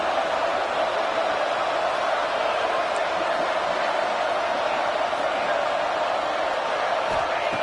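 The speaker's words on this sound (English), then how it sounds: "Listen to the crowd energy here in the early going." Stadium crowd at a football game sends up a loud, steady roar of cheering and noise that fills the whole stretch without a break, with voices blended into the wash.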